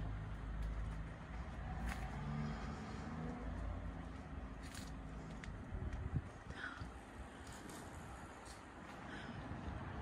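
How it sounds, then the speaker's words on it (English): A car approaches along a road, its engine and tyre rumble building steadily over about ten seconds amid outdoor wind and ambient noise, with no talking. "Car coming."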